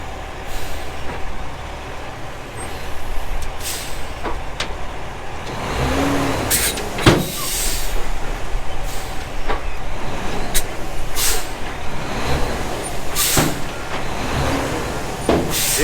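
An old Western Star truck hauling peat bog pulls away in low gear under a heavy, rumbling engine, with a few sharp air-brake hisses and clanks cutting through at intervals. There is no talk.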